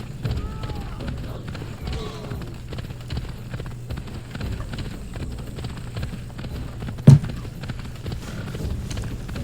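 A horse gallops in the video game Assassin's Creed Odyssey, with a steady, rhythmic clip-clop of hooves running throughout under a talking voice, and one sharp thud near the end.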